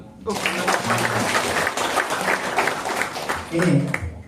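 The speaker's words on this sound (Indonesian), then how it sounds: "Tepuk tangan dulu." Attendees at an ASPIKMAS leadership training session break into hearty, close clapping that holds at a steady level, with a voice talking over it near the end.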